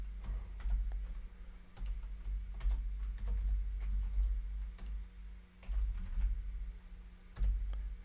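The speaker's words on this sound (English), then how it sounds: "Typing a little too fast here." Fast typing on a computer keyboard, with quick, uneven bursts of soft clicks and taps up close over a low hum, no speech.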